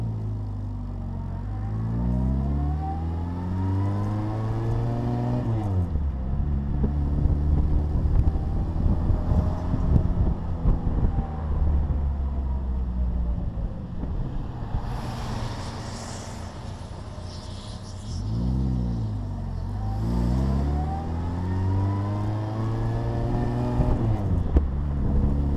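An Austin-Healey Bugeye car engine runs lean while the choke is worked, its revs rising and falling in repeated swells over a steady drone, with wind buffeting the microphone in the middle.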